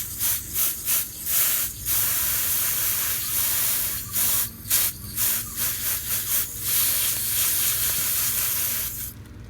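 Water spray rinsing algae off limestone fossils such as a pecten shell, a loud hissing jet broken into repeated short bursts with brief pauses, close and up front with no talk.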